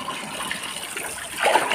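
Water splashing as a child swims, a steady close wash of churning and dribbling water that swells into a brighter splash near the end, no talking.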